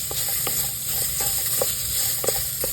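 Cooking oil sizzling in a home kitchen pan with only a drop or two of oil while sinigang with fish head is prepared, a steady close hiss dotted with soft stirring clicks.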